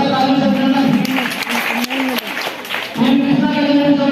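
Loud audience applause fills a quiz-show studio in steady clapping, with a strong voice carrying over it throughout.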